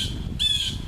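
A bird gives a single loud, harsh squawk, close by, rising abruptly out of steady outdoor background noise and holding for about half a second.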